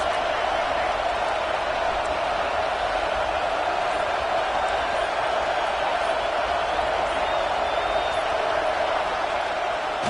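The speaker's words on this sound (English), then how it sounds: "this crowd is bringing down the house" A stadium crowd roaring in a college football video game with Oklahoma playing Florida State, a steady, dense wall of cheering noise that holds evenly throughout.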